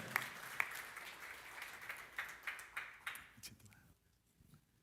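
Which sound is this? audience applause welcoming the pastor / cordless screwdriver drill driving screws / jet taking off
audience applause welcoming the pastor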